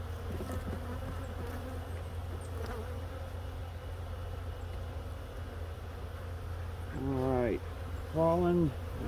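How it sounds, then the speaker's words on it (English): Honeybees buzz in a dense, steady drone around an open hive frame being worked in late season, with a few short, louder swells near the end. "There's obviously a lot of bees in here."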